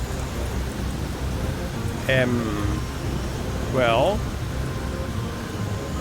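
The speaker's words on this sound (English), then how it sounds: "Oh, it's raining." Steady rain hisses throughout a scene in the video game The Dwarves, a constant wash of patter under brief spoken words, with two short rising vocal sounds cutting through.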